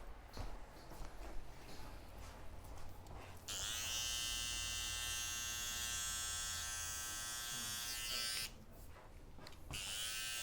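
Electric hair clippers buzz steadily while cutting a taper on a men's pompadour haircut, a close, continuous hum that starts after a few seconds of background noise and cuts off briefly near the end before resuming.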